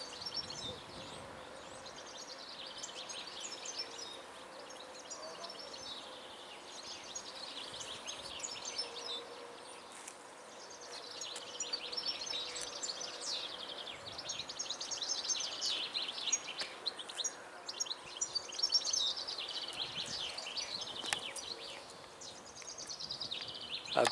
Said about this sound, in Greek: Ακούτε τα πουλάκια.